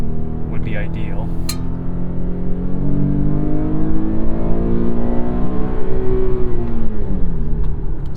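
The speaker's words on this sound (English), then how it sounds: "It's not the best sounding engine." An Infiniti Q50 engine accelerates from inside the cabin, a loud steady drone with rising harmonic tones that climb through the revs and shift, with a brief clink early on.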